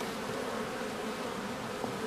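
Caucasian honey bees buzzing at the hive in spring, a dense, steady hum of many insects close by with no voices.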